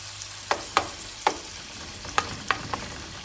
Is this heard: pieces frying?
yes